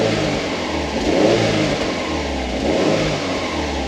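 A Subaru WRX Bugeye with a swapped-in STI six-speed gearbox revs under throttle, its engine rising and falling in two loud, close surges over a steady running drone.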